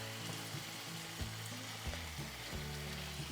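Tomato sauce bubbles and cooks down with chicken breast in a pan, a soft, steady sizzle and spatter heard close and alone, with faint stirring sounds and no voices.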